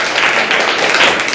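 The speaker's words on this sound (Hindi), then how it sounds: "अच्छा चलिए, इनके लिए ताली बजा दीजिए" A school class claps for a student, a loud, close burst of dense applause from many hands lasting about a second and a half.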